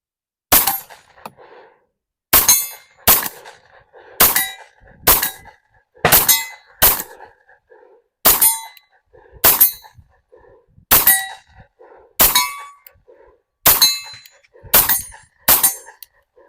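An Ermox XFire Defense gun fires a magazine at steel targets, with about a dozen sharp shots at uneven intervals, each paired with a ringing metallic clang, loud and close with short silences between.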